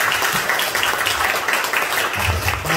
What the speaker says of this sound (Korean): 하나님 영광의 박수 드립니다.